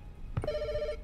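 A telephone rings in a gas station horror video game, a short electronic ring tone following a brief thump, moderately loud over a low room hum.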